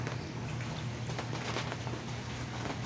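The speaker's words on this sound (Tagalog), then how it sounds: "Ang bilis lang ng ulan ngayon" Steady rain during flooding patters densely on a surface, a constant close wash of drops with no pauses or voices.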